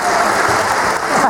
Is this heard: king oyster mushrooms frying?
no